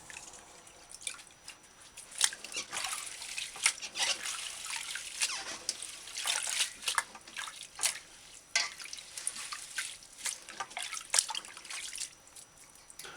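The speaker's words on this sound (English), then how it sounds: "It's best if you rinse the herbs and the bark in a bowl of water." Herbs and bark for a Jamaican roots tonic being rinsed in a bowl of water, with soft, uneven splashing, trickling and dripping that keeps going at close range and moderate loudness.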